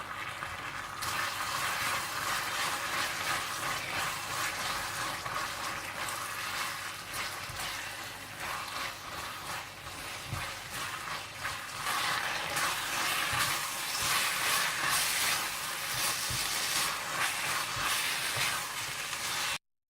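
Beef stir-fried in a hot pan with vinegar, soy, chili and oyster sauces and crushed black pepper, a steady dense sizzle and hiss with occasional stirring clatters, running continuously without pause.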